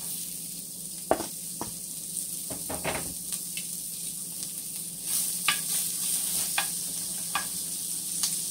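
Onions frying in a little oil in a pot, a steady close sizzle broken by scattered stirring scrapes and clicks from a utensil, with no voices.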